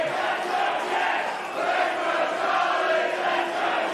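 A wrestling crowd at a Pro Wrestling Australia event cheers and roars in a steady, moderately distant wash of voices that dips briefly and then swells again.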